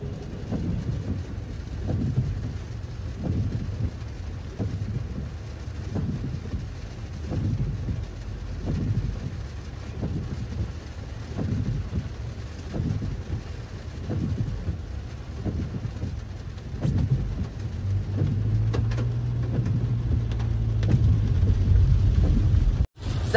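Steady rain and rumbling low noise at a railway line, with rhythmic low thumps throughout, growing louder near the end before cutting off abruptly.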